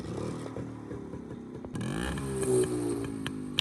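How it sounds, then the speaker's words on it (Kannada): A Rajdoot T175 motorcycle engine idles with a steady low putter, then catches and runs stronger partway through, the sound close and loud with a brief mechanical clank near the end. "ಸೌಂಡ್ ಯಾವ ತರ ಇದೆ ಅಂದ್ರೆ ನಿಮ್ಗೆ ಸ್ಟಾರ್ಟ್ ಮಾಡಿ ತೋರಿಸ್ತೇನೆ."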